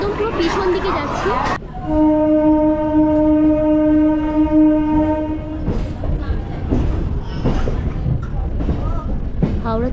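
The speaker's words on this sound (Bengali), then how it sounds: "হাওড়া থেকে আমাদের ট্রেন ছেড়ে দিল।" A local train pulling out of Howrah station, with a long, loud horn blast over rumbling wheels and carriages, while voices chatter on the crowded platform nearby.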